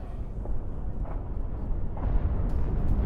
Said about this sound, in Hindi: कीव में जुलियानी एयरपोर्ट के पास 6 धमाके हुए हैं